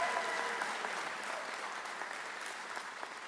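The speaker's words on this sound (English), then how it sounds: "Big round of applause for Miss Stovall." An audience at a school district Teacher of the Year celebration gives steady, dense applause that holds at an even level through the whole stretch, with no talking over it.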